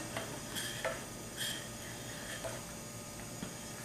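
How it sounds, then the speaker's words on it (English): Sweet Thai chili sauce simmers in a pan, a faint, steady bubbling with small irregular ticks and pops at a soft level, no talk over it. "So you just allow it to simmer, a nice good simmer for about 5 minutes or so."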